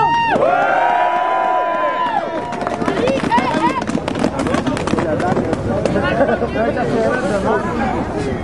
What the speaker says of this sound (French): je pense qu'on peut donner une grosse main d'applaudissement à tout le monde.